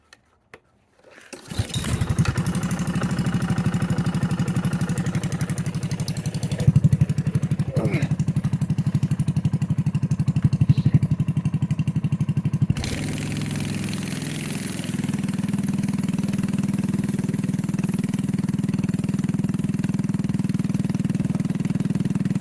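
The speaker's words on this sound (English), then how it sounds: "you're about to start up your really janky go-kart" A homemade go-kart's small engine starts up and then runs at low throttle. It sputters into a steady, close, chugging drone whose pitch shifts partway through, while a voice talks briefly over it.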